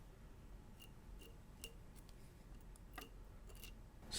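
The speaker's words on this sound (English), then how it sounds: "Snip off unruly fibers to give a neater looking head." Scissors snipping loose fibers from the head of a miniature bulk head Clouser minnow spinfly during fly tying; several faint, short clicks spaced irregularly, close but quiet over a low background hum, with no talking.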